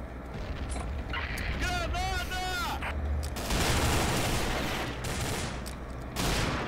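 Rapid bursts of gunfire from the online shooter Combat Arms during a competitive match, loud and dense, continuing throughout under excited players talking over voice chat.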